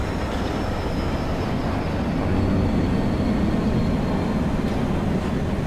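An airplane in the Dead Island video game gives a steady, loud low rumble and roaring drone that holds evenly throughout, with no speech.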